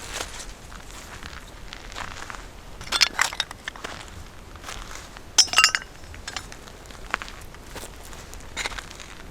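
Pieces of melted glass debris at an abandoned cabin site after a prescribed burn, handled and clinking in a few sharp, close bursts amid scattered crunching steps and outdoor background.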